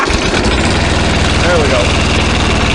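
A small engine cranks and settles into a steady idle with the transmission in neutral, a loud continuous rumble filling the whole stretch.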